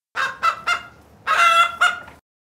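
A goose honks loudly and close by: three short honks, a brief pause, then a longer drawn-out honk and one more short call.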